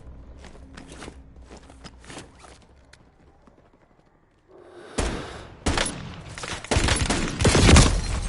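Bursts of automatic gunfire in a multiplayer battle-royale video game, quiet footsteps and soft thuds for the first four seconds, then loud rapid volleys cracking repeatedly from about five seconds on.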